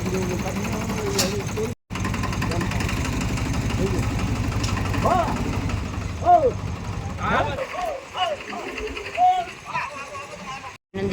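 A tractor engine idles and chugs with a steady low mechanical throb on a village farm, running beneath someone talking throughout, then cutting away toward the end while his voice continues.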